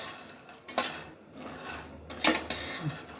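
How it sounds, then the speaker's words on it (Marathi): Peanuts roasting in a pan over a high gas flame are stirred, producing a few loud bursts of rattling, scraping clatter between quieter stretches. "हे बघा आता आपले हे शेंगदाणे पण भाजायला लागलेले आहेत मी जरा गॅसनं मोठाच केला"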